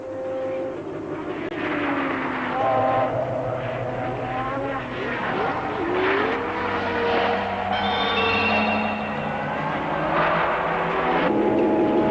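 1973 Formula 1 race cars scream past with rising and falling engine whines, a continuous loud wash of racing engines with a commentator talking over it.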